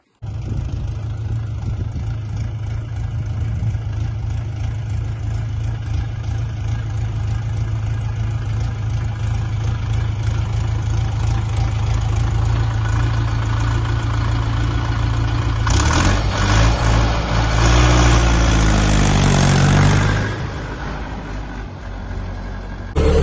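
A Foton Lovol 354 tractor engine idles with a steady low rumble that runs throughout, briefly swelling louder and rougher near the end.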